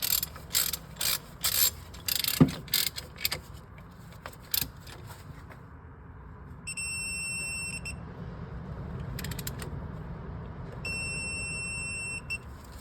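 A torque wrench tightening a bolt during timing and water pump work on a 2011-2019 Ford Explorer 3.5 engine, with a rapid series of close ratchet clicks, then a quieter stretch broken by repeated high electronic beeps from the wrench.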